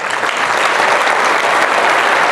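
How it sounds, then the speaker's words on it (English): A conference audience gives steady, dense applause in a room, a loud and continuous wash of clapping from many hands with no talking on top of it. "give them a big round of applause."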